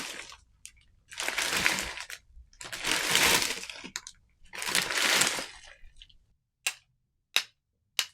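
Chunks of ice scrape and grind against each other in three broad, noisy swells, followed by a few sharp, isolated clinks as the pieces are knocked together, close up with quiet gaps in between.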